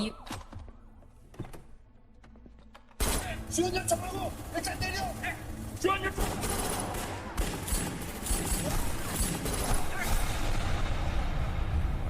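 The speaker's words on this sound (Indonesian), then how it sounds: "polisi-polisi itu langsung memberondong peluru ke arah mereka" Police firing a barrage of gunshots during a robbery scene: after a quiet stretch, a dense, loud burst of rapid shots and impacts erupts and continues, mixed with other clatter and noise.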